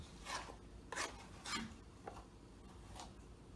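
Flour and other dry ingredients for banana bread being whisked together in a bowl: a handful of soft, raspy strokes at irregular intervals, faint and close, with no talking.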